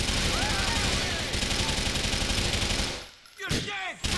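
Gunfire in Grand Theft Auto IV, loud sustained rapid automatic bursts that run continuously, then stop briefly and return with a few more shots. Voices are mixed in.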